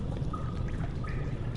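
Continuous pouring and dripping water in Amnesia: The Dark Descent, a close, even trickle with faint drips on top, heard alone throughout.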